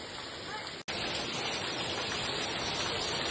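Heavy rain falls in a dense, steady roar, nearly masking everything else, broken once by a brief cut before the downpour resumes unchanged.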